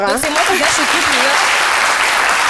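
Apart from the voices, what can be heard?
audience applause for the actors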